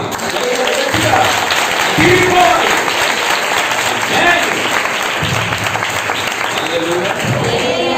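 Church congregation clapping together in a loud, dense burst of applause that holds steady throughout, with voices calling out underneath.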